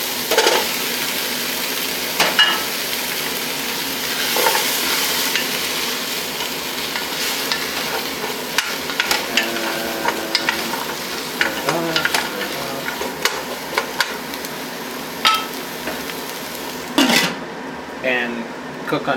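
Carrots and parsnips cooking in a soup pot, a steady soft sizzle with scattered scrapes and clinks of a stirring utensil against the pot, close, with faint talk at times.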